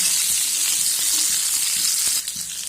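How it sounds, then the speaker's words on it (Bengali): Potatoes frying in hot mustard oil in a wok, a loud, dense, continuous sizzle heard close up, dipping slightly near the end. "এবার এই তেলের মধ্যে আলুগুলোকে দিয়ে ভেজে নেব।"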